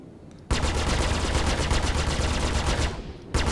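Three ship weapons fire together in Star Citizen from a Warthog ship, a loud rapid stream of evenly spaced shots that starts abruptly, runs for about three seconds, stops, then picks up again at the end.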